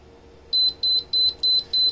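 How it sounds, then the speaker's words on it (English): A radio dog fence wire receiver beeping, five evenly spaced high-pitched electronic beeps in a steady rhythm, loud and close against a quiet background. "you turn it back until it starts to beep"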